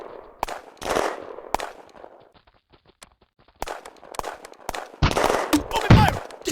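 Bursts of video game gunfire from a squad firefight, sharp rapid shots clustered in loud volleys with a quieter gap midway, then dense close firing toward the end.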